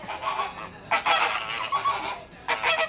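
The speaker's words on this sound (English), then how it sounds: "When Janelle brings the flamingos around, you must strike your best flamingo pose." Flamingos at Ardastra Gardens honk nearby in a burst of loud, goose-like calls, several overlapping honks arriving in three or four clusters with short pauses between them.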